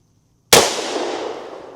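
A single loud, close shot from a Magnum Research BFR 500 JRH revolver with a low recoil load, a sharp crack followed by a long fading outdoor echo.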